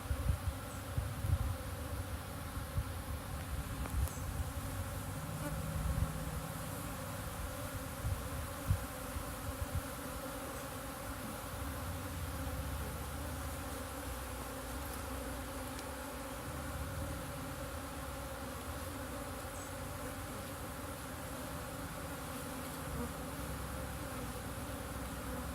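Honeybees swarming around the frames of a five-frame nuc hive, a dense, steady droning buzz close by, with a few soft knocks early on and no talking.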